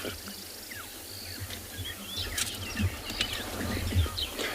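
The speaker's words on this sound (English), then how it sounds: "You must love these birds. They're so cool, you know, especially with the noises that you can hear on the background." Birds call at sunrise on safari, thin chirps and whistles scattered at a distance over a quiet background of insect hum and low rustling, with a few louder close knocks late on.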